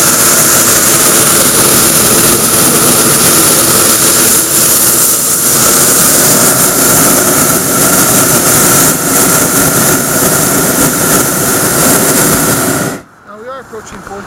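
A small aircraft's engine drones loud and steady from inside the cabin as the plane climbs, a constant broadband roar with a wind hiss that drops away abruptly near the end.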